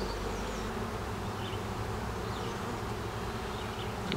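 A virgin queen honeybee pipes inside a buzzing beehive, with faint tonal chirps over the steady, dense drone of many bees heard close and continuous.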